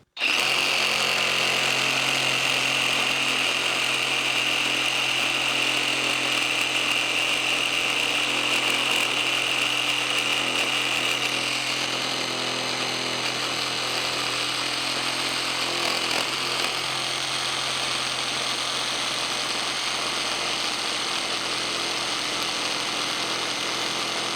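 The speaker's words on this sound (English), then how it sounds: "Definitely very vibraty, very shaky on the hands, very reciprocating saw" A reciprocating saw cutting through material, a loud continuous buzzing drone with a high whine that eases partway through, running steadily for the whole stretch without talk.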